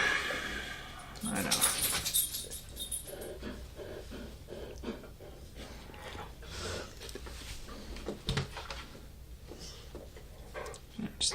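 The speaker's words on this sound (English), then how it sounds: "There's the dog." A dog whimpers and pants close by in a room, with soft whines and breathy sounds scattered throughout while someone talks.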